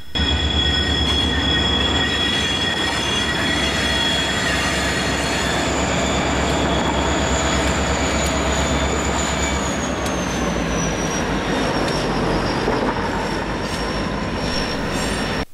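Freight locomotives rolling across a track switch from Norfolk Southern's Taylor Yard onto the Reading and Northern KV branch: a steady, loud rumble with sustained high wheel squeal and metallic ringing throughout, no voices.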